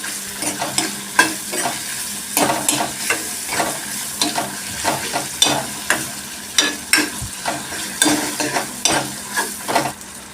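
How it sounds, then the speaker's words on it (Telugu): Tomatoes frying in oil for an Andhra-style pumpkin stew, stirred with a spoon in a pan: a continuous close sizzle punctuated by regular scraping strokes roughly every second. "టమాటాలు వేసుకున్నాం కదా ఇవంతా వేగినంత వరకు కలుపుకోవాలి"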